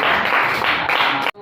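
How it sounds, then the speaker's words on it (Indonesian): A room of people claps lively for a school class presentation, a dense continuous burst of applause that cuts off abruptly near the end. "tepuk tangan yang meriah"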